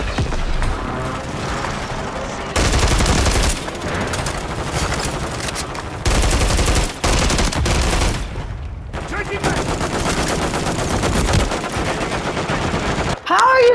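Call of Duty video game gunfire plays as dense, loud automatic bursts with rapid machine-gun fire and heavy blasts. It keeps up almost continuously, with brief gaps between volleys.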